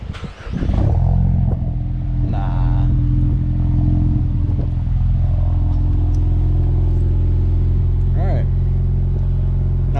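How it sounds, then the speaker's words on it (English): A Ford Mustang EcoBoost, lowered on Steeda Progressive Sport springs, fires up from a cold start with a loud crank and catch, then settles into a steady, strong idle drone with brief rev blips, close by and alone. "So let's go ahead and get that cold start"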